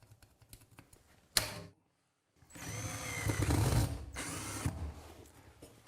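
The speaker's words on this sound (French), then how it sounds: "Et je peux maintenant poser le troisième point de fixation" A screw being driven into the third fixing point of a Mazda Dual Kherr electric radiator during wall installation, heard as a close mechanical ratcheting burst, a short pause, then a longer steady whirring drive.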